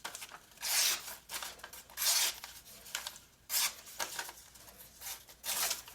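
A Kizer Mercury folding knife, used and not sharp out of the box, slices through paper in five rasping strokes spaced about a second apart, each a short hissing swipe heard up close with no talking.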